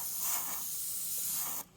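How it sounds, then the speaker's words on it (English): A spray gun hisses steadily as chrome yellow paint goes onto a Mustang, a close and continuous airy spray that cuts off abruptly near the end. "You just got to keep spraying it in and build up the exact"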